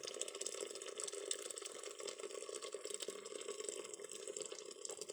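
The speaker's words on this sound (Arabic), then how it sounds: "ها احنا نديرو الماء، الماء طايب" Water poured into a pot of soup cooking over a wood fire outside a tent, a continuous close, splashing liquid stream with a steady, even level and no talking.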